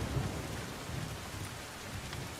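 Steady rain pours onto a waterlogged, flooded street in Ahmedabad, a dense continuous hiss with low rumbling beneath and no voices.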